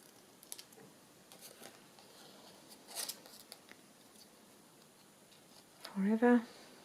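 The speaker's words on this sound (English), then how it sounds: "so I think I'll just trim it a bit" Scissors trimming paper for a handmade folio, a few faint snips and rustles scattered through a quiet room, followed by a brief burst of voice near the end.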